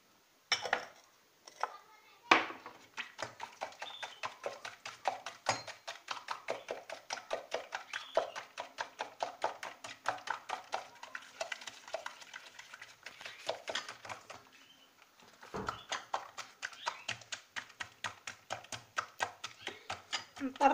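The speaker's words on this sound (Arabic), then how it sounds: "نطربوا هاد البيض مزيان حتى مع السكر وسميتها" Eggs beaten with sugar in a bowl: rapid, steady rhythmic tapping of a whisk or fork against the bowl, continuous for most of the stretch with a short pause midway, fairly faint and close.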